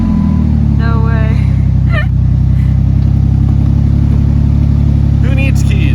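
A truck engine started without keys runs loud and close, idling with a steady rumble and mild revs, while people talk briefly over it.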